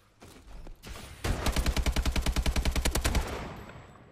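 Rapid automatic AK-12 rifle fire in Call of Duty Advanced Warfare rattles off in one sustained, evenly spaced burst of about twenty close, loud shots before trailing away.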